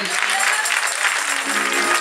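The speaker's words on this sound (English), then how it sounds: "let's just give God a great hand clap of praise" A church congregation at Bennett Chapel gives a steady hand clap of praise, a full, even wash of many hands clapping together with no pause.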